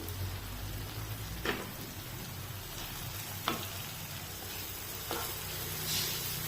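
Ground spices (homemade coriander, cumin and garam masala) frying in a little oil for a village-style mushroom masala, a steady soft sizzle with a few louder stirring scrapes, close and with no talking.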